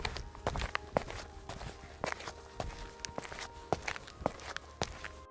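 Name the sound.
footsteps of the village headman approaching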